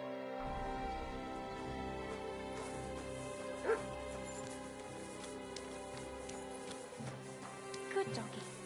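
A dog in the video game Kingdom Come: Deliverance 2 barks and whimpers in short yips over a steady musical soundtrack, with a couple of sharper bursts standing out.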